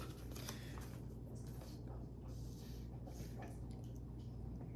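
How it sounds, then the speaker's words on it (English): A dog drinks water loudly indoors, its wet lapping and slurping coming in steady, quick bursts over a constant low background hum. "the very loud drinking is now being heard"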